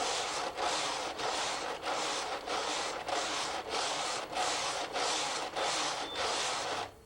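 A Brother KH-930/940 knitting machine carriage sweeps back and forth across the needle bed in about ten even, rhythmic passes, each a close rasping swish, with no talking.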